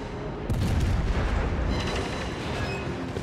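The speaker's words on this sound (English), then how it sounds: "Try and dodge the bombs, maybe." Aircraft bombs burst around the battleship Scharnhorst in a naval combat game, a heavy rumbling boom breaking in suddenly and rolling on with dense low crashes and continuous battle noise.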